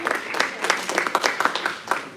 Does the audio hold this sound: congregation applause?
yes